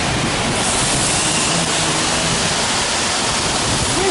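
Water rushes steadily at the Molinetto della Croda mill in Refrontolo after heavy rain, a loud, unbroken roar like a waterfall filling the whole clip with no talk.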